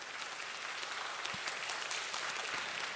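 A church congregation applauds steadily, a dense wash of many hands clapping at a fairly distant, even level throughout, with no voices on top.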